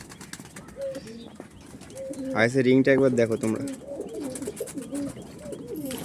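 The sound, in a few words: pigeons cooing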